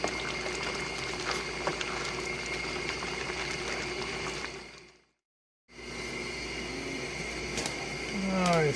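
Crawfish bisque with chopped and whole crawfish simmering in a pot, giving a steady bubbling hiss close by that cuts out briefly midway, with a voice talking over it.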